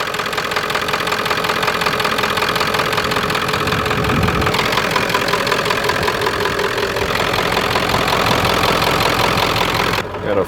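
A Ford F350 with a 7.3 Powerstroke diesel idles steadily and loudly up close, with a constant low rumble and clatter throughout and a brief drop near the end.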